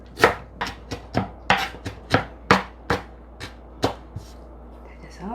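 A knife chops carrot and other vegetables on a cutting board for Chinese-style fried rice, about a dozen crisp, loud knocks at an uneven, steady pace, close up with no talk.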